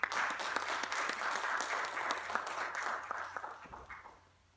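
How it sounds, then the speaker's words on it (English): Applause welcoming a speaker from the Italian Embassy at a Da Vinci celebration, a fairly quiet, steady crowd clapping for several seconds before tapering off into silence. "Ladies and gentlemen, let us take this moment to give a round of applause"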